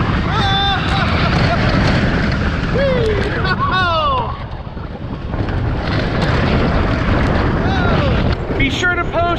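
A manually operated classic wooden roller coaster at Linnanmaki in Finland roars along with steady loud rumble and wind buffeting, while riders shout and scream throughout the ride.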